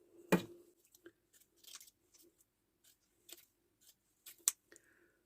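Scissors trim the edges of paper in a quiet room, giving a handful of sharp, separate snips and crisp paper rustles spaced out irregularly, close and fairly faint.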